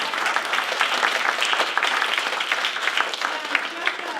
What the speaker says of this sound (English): right now, I guess we'll just do another clap.